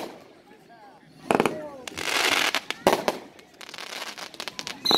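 Bursts from a multi-effect consumer fireworks cake at a Moon Festival show: sharp crackling volleys and thumping shots come in clusters with brief gaps, fairly close, while people talk and react over the display.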